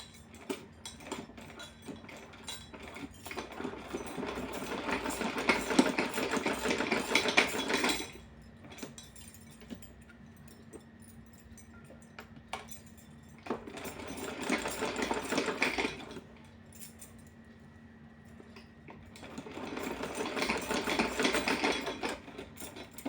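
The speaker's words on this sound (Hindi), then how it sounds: "अब इसको मैं सीधा कर लूँगी और एक बार इसके ऊपर से इस तरह से दोबारा सिलाई लगाऊंगी मैं" Sewing machine stitching a summer cotton dress for a small Kanha ji idol, running in three steady bursts of fast, even whirring separated by quiet pauses, close and alone with no voices.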